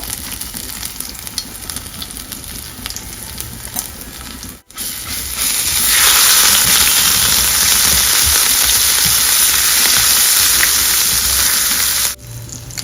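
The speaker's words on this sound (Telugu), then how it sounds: "అల్లం వెల్లుల్లి పేస్ట్ ఆయిల్లోనే వేసుకుంటున్నాను" Ginger garlic paste hits hot oil already holding cumin and mustard seed tempering, bursting into a loud, steady sizzle after a quieter stretch of frying, then cutting back down near the end.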